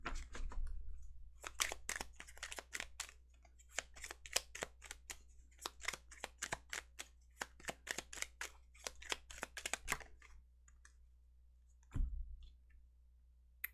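A deck of playing cards being shuffled during a tarot-style reading, heard as quick bursts of crisp riffling clicks and flutters in irregular clusters, close and quiet, with a soft thump near the end and no talking.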